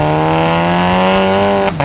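VW Golf GTI Mk7 with an ARM 4.5-inch downpipe, a loud close exhaust drone held at high revs with a steady rising tone, then a sharp drop as the throttle lifts near the end.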